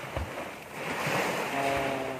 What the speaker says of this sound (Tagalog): nandito po tayo sa tabi ng dagat